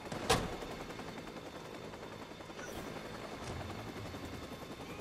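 Police helicopter in the video game Watch Dogs 2, a steady rotor drone running under the whole stretch, with a sharp gunshot-like burst near the start and a few softer game noises later.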